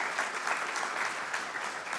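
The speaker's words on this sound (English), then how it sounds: "Can we just give a round of applause to Dr. Lau" An indoor audience at a Q&A session applauds steadily, a dense wash of clapping from many hands that continues evenly throughout.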